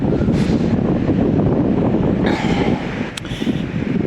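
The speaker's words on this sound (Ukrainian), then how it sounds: "Вітер холодний, сонця немає, хмарно." Steady, rough, cold wind in Italy under cloudy skies buffeting the microphone, a constant low roar with brief gusts, no voices.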